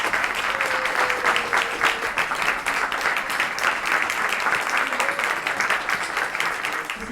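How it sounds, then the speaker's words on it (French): An audience applauds the programming committee at a short-film festival screening, a steady dense clapping that stays loud and even throughout, with a faint tonal whistle drifting over it early on. "Je vous prie de les applaudir chaleureusement."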